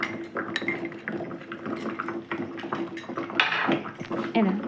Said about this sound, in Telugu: ఇది మొత్తం అందులో వేసుకొని అది బాగా కలుపుకుందాం